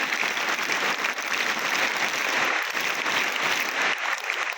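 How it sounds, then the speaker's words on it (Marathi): Audience applause at an educational complex felicitation event, a dense wash of many hands clapping continuously and fairly loud throughout, with no distinct separate claps standing out. "सर्व सर्वांना तीन टाळ्या लगातार तीन टाळ्या"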